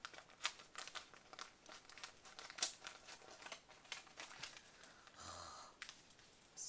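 A small paper envelope of mail being torn open, faint crinkling and rustling with scattered sharp rips and crumples, close up and quiet.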